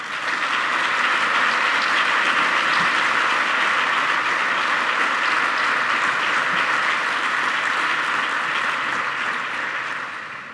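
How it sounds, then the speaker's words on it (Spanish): An audience at a university award ceremony bursts into sustained applause, a dense wash of clapping hands that holds steady for about ten seconds before beginning to taper off, loud and unaccompanied by speech. "Un aplauso para él."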